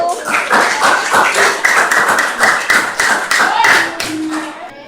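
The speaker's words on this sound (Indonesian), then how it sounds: "Berikan aplaus untuk kelompok 1." Classroom audience applauding a student group after a presentation, loud close rhythmic clapping in a steady rapid pattern for about five seconds, with faint voices underneath.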